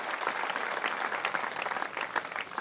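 An audience at a Hindi poetry recital applauds in a dense, continuous patter of clapping, fairly faint and somewhat distant, without talk over it.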